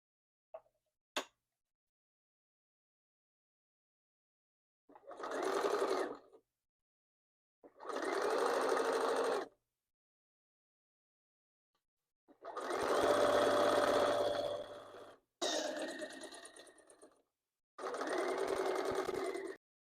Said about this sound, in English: put the foot back down, and then you can just start sewing